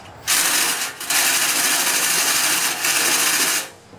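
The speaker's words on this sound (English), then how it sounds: "then you're going to reverse your drill and do it again the other way" A cordless drill spinning a rotary whip brush inside a chimney flue, a loud continuous whirring scrub with brief dips where the drill pauses and restarts, close and without voices.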